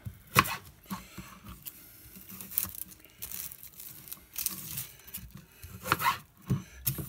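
A knife cutting the end off an onion, a handful of crisp, close chops and slices on a board with soft crunching between, fairly quiet and irregular.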